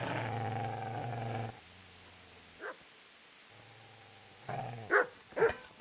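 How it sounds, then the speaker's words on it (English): Dog in the video game Kingdom Come Deliverance, a growling, rumbling tone at first, then quieter stretches and several short, sharp barks near the end. "Get away, you mutt!"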